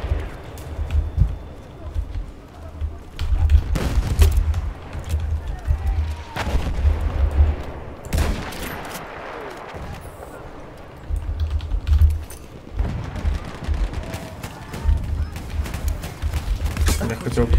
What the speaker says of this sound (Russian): Кто стреляет в меня?